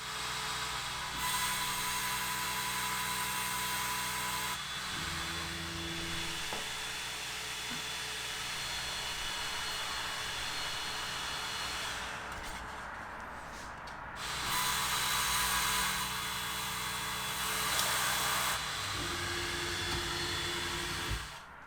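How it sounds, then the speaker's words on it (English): A laser cutter cuts carrying-handle holes through a plywood speaker frame, producing a steady machine hum and an airy exhaust hiss that shift in sections and briefly drop before resuming. "I am now setting the laser to cut out the holes for the carrying handle."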